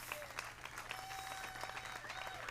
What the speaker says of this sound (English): I would ask for several rounds of applause